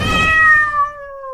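A single cat meows close and clear, a drawn-out call that slides gently downward in pitch and fades, with nothing else around it.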